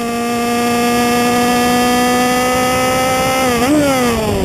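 Race car engine coming out of turn 2 during a missed upshift from third to fourth gear: a loud, sustained high-revving whine that holds steady, then dips and flares in pitch as the shift goes wrong.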